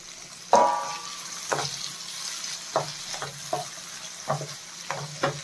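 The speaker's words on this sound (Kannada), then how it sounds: "ಟೊಮೆಟೊನು ಮತ್ತು ಆನಿಯನ್ನು ಬೇಗ ಫ್ರೈ ಆಗುತ್ತೆ" Tomato and onion frying for a brinjal fry, a soft close sizzle broken by regular scraping and knocking of a spoon stirring in the pan, with no talk.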